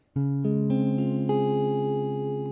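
A guitar barre chord is strummed once and left to ring out, its full sustained tone slowly fading, with no other sounds.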